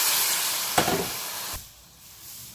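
Okra masala sautéing in a pan gives a steady, close hiss of sizzling for about a second and a half, with a brief stir near the middle, then drops to a quieter simmer.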